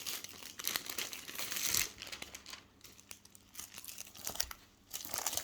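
Plastic packaging crinkles and crackles up close as diamond painting kits are unwrapped, in bursts of rustling with brief quieter pauses between.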